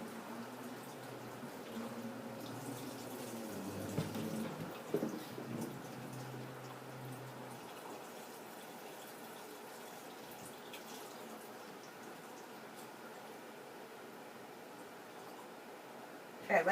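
Water pours from a tap into a jug, a steady faint splashing stream that thins and fades after the first few seconds, leaving a quiet room with a brief knock at the end.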